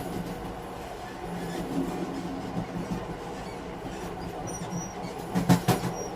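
A night train runs at a steady pace with a continuous rumble and rattle, with brief metallic squeals near the end. No voices.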